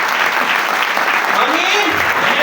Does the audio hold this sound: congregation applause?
yes